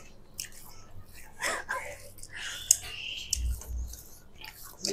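Fried fish and rice are chewed up close in soft, wet, irregular bites, with quiet murmurs and brief vocal sounds in between.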